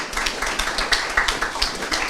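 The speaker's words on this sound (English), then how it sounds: "Can we clap for them?" Audience members at an investment education event clap, a sparse, uneven patter of hands with distinct individual claps rather than a dense roar.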